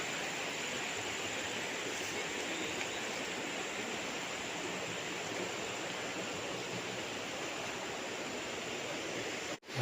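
Steady broadband rush of river water flowing beside a farm lot in Liliw, Laguna, continuous and even throughout with no voices.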